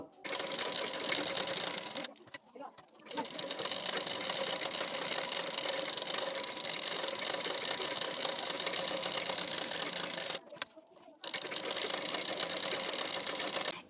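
A sewing machine stitches a blouse sleeve in rapid, steady bursts, a loud close whirring chatter that pauses briefly twice before resuming.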